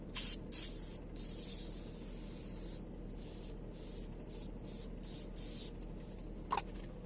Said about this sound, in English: gently we just spray our product on the area.